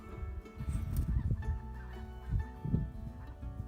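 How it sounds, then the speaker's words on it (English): Goose call heard outdoors at Summer Lake, Oregon in January, a series of throaty honking, gobbling notes in irregular bursts at moderate distance, with no talk over them. "Yeah, that sounds like a goose call."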